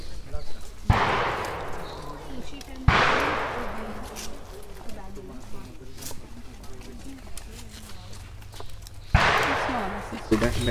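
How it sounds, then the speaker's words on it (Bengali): Gunfire at the Cu Chi Tunnels rings out as three loud, sharp bangs with echoing tails, two close together early and one later, while people talk between the shots. "গুলি শব্দ হচ্ছে,"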